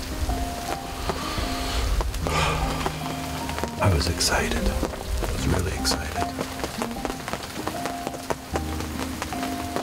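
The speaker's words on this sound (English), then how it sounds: "Rain's coming down pretty good." Rain comes down steadily on a hunting blind in the badlands on an overcast day, a constant patter on the surface beneath someone speaking close by.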